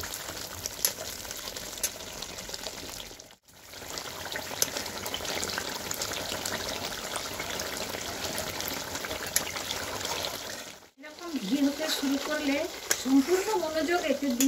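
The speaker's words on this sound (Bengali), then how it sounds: "আরও কিছু সময় এভাবে অল্প আঁচে এরকম অনবরত নেড়ে চেড়ে এটাকে এরকম কাট করে দিতে হবে" Butter simmering into ghee over low heat, sizzling and bubbling steadily while being stirred continuously, with two brief silent gaps and clearer crackling and popping toward the end.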